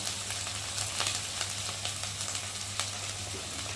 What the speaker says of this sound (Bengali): পরিমাণ মতো নুন দিয়ে মশলাটা ভালোভাবে কষিয়ে নেব।